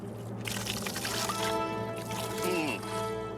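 Water pouring from a pipe at a sulphur-smelling hydrogen sulfide spring, a steady splashing trickle running throughout, with a person talking over it.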